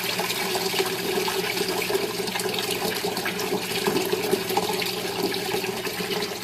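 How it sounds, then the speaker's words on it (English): Water gurgles and rushes steadily as a siphon drains an indoor aquaponics grow bed built from half of a 55-gallon drum, a continuous close splashing flow with no voices. "And we'll see if the siphon breaks, or the siphon goes."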